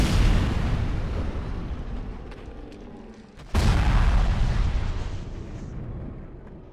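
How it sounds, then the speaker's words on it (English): A tank cannon fires at a crowd in GTA 5, a single heavy booming blast cutting through a continuous loud rumble, followed by lingering low roar and debris noise with no talking. "we're just gonna shoot this big pile of people with a tank"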